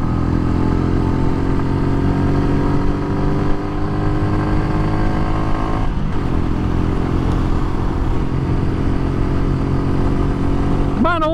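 Royal Enfield Meteor 350 motorcycle under way, its engine droning loud and steady throughout as it accelerates toward highway speed, with wind rush and a brief dip and recovery in the pitch midway.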